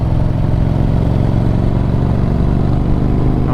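Yamaha Virago 1100 motorcycle engine running hard on a country road in Derbyshire, a loud, steady V-twin drone with a throbbing low rumble as it picks up speed, close and continuous with no talk.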